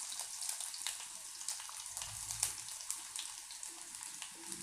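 Seven or eight garlic cloves frying in a pan give a soft, steady sizzle and crackle at close range, with faint pops scattered throughout and no voices.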